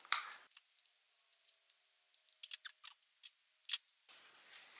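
Scissors snip through fleece for a sewn key fob, with a handful of soft, close, irregular cuts separated by quiet pauses, and no talking.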